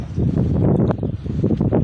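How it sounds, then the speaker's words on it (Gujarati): Blustery wind at Pipavav Port buffets the microphone with a low, uneven rumble that surges and dips for the whole stretch, close and fairly loud. "આની પર થોડોક પવન આવવા રહ્યો છે"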